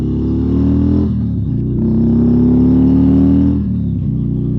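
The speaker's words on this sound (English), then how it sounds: "This Warp 14 engine moves this bike very well." A 2024 Harley-Davidson Road Glide with a Milwaukee-Eight 114 engine accelerates on the road. Its loud, close, deep V-twin rumble climbs in pitch through the gears, easing off briefly between shifts.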